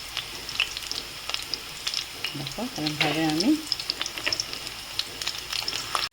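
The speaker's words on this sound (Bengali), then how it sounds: "কোপ্তাগুলো কিন্তু আমি মিডিয়াম আছে ভাজছি।" Chicken koftas fry in oil over medium heat with a steady close sizzle and occasional stirring clatter, while someone talks briefly over the cooking.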